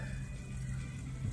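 Water running steadily at a swimming pool as a bucket is filled, a continuous low gurgling rush that holds at an even level throughout with no voices over it.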